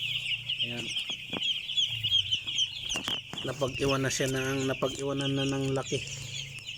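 Five-day-old broiler chicks in a farm brooder peep and cluck continuously in a dense chorus, with someone speaking Filipino briefly over the flock.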